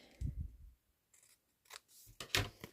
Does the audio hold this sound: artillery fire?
no